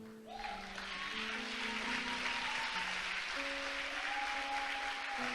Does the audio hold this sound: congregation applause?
yes